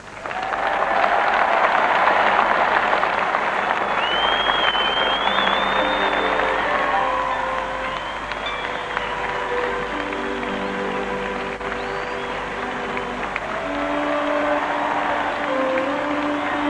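A large crowd at the Pope's open-air Mass in Limerick in 1979 applauds and cheers continuously, a broad steady roar of clapping that swells early and then holds, with scattered shouts and whistles rising above it.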